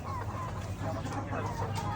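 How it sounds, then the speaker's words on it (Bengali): Hill chickens cluck in short repeated calls over a constant low hum and background noise, moderately close and fairly quiet throughout. "মুরগি বলে ভাই দেখবেন"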